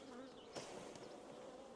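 Bees buzz around the narrow entrance of a beehive, a faint continuous humming drone with a few individual insects passing closer, outdoors with no speech.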